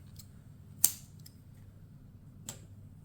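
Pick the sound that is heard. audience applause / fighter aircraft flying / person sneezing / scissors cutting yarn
scissors cutting yarn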